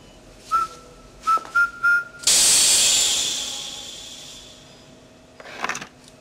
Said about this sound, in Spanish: Ahora, silbe las primeras notas de Gobierna Britannia.